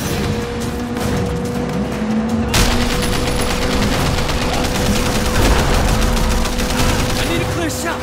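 Gunfire in the Sleeping Dogs video game, a dense, continuous barrage of rapid shots mixed with engine drone and occasional heavier bangs, loud and close, with voices talking over it.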